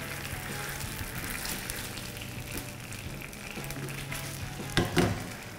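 Korean sauce being stirred in a pan until it dissolves, a soft continuous sizzle with faint scraping, steady and close, ending with a couple of brief clinks.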